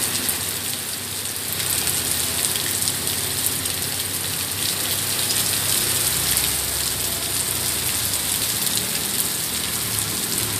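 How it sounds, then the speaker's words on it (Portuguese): Heavy rain with a brief burst of hail during a strong storm in Maringá pours down steadily and loudly, a dense, unbroken wash of drops hammering surfaces close by, with no voices. "Choveu, granizo aí por uns poucos segundos aí pra vocês verem"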